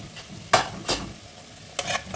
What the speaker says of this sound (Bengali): এবার মশলাটাকে আমি ভালোভাবে কষে নেব তেলের মধ্যে।